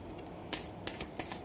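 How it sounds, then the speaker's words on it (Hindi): Tarot cards shuffled by hand in three quick riffling bursts at even intervals, close and crisp over a quiet room. "जब तक मैं कार्ड शफल करती हूँ"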